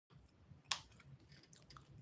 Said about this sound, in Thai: เคี้ยวเพลินมาก